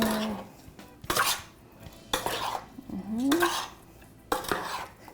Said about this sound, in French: Juste mélanger pour que tous les petites épices soient un petit peu partout